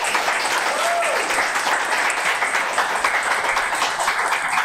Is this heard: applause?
yes